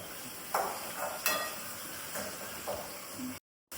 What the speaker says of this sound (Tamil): இப்போ தக்காளி வதங்கட்டும்.